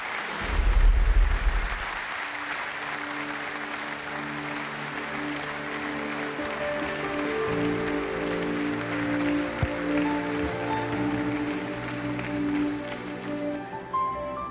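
An audience applauds at the European Inventor Award ceremony, a dense burst of clapping that eases into a softer, continuing patter as orchestral music swells underneath.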